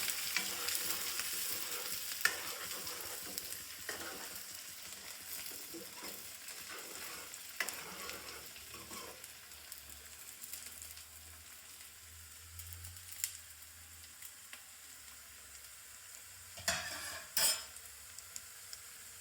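Potato poha frying in a pan while being stirred, with a continuous hiss of sizzling oil under scraping spoon strokes and occasional light clinks against the metal, close up and without speech.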